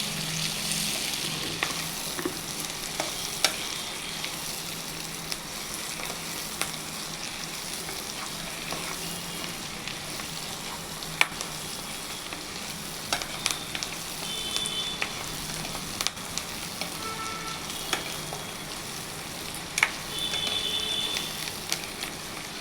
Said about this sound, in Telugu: ఇలా బాగా వేగాలి ఉల్లిపాయలు